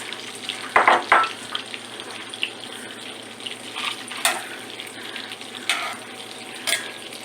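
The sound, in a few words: sausage frying in a pan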